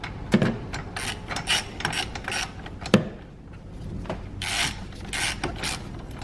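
Hand ratchet snugging the battery hold-down nuts on a 2012-2022 Mitsubishi Mirage G4, quick bursts of close, crisp clicking strokes with brief pauses and a couple of sharp knocks between them.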